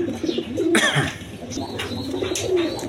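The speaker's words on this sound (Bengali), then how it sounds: "এখানে এক পেয়ার জ্যাকোবিন কবুতর আছে" A pair of red Jacobin pigeons, male and female, coo in low repeated throaty calls, close by, with a few sharper bird chirps mixed in.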